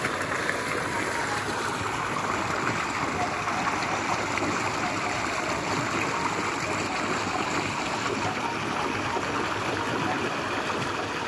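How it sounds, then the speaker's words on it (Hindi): Water gushing from a village bore well pump and running out into farm fields, a steady, loud broadband rush that continues without pause throughout. "अंकल ने चालू कर दिया है पानी, आप लोग देख सकते हैं। अब पानी खेतों में जाएगा"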